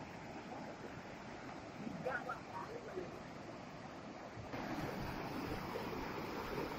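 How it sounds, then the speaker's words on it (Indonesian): Cool wind blows outdoors at a rural spot above a ravine beside calm water, a steady, moderately loud rushing wash with soft gusts that strengthen near the end. "Dan terasa sekali udara yang dingin, angin yang dingin bertiup sepoi-sepoi yang saya rasakan saat ini."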